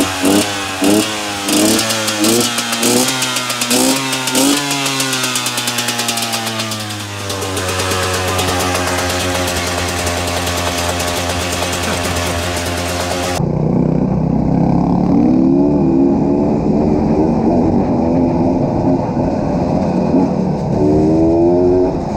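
Two-stroke dirt bikes revving and pulling away: rising, pulsing engine notes accelerate over the first seconds, then fade into a steady, louder buzzing engine drone that continues to the end, with no talk.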